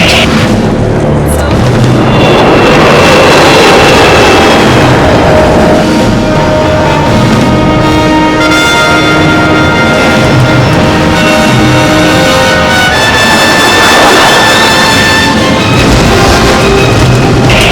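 An Avro Arrow jet aircraft roars loud and continuous while climbing at full throttle, a dense engine rumble with shifting tonal whines throughout.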